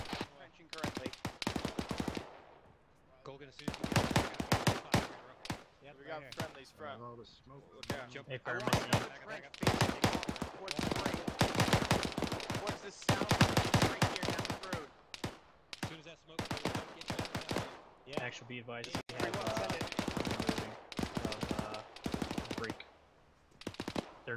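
Sustained automatic gunfire and rapid rifle bursts from a military simulation battle in the video game Arma 3, loud and dense with brief pauses between volleys, while radio-style voices talk over the shooting.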